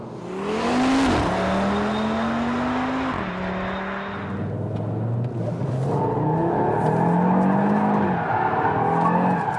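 A 2022 Audi RS3 with its five-cylinder engine drifts through a dry roundabout in second gear, loud tire squeal rising and falling in long sustained streaks over the steady engine roar, close and without any talk.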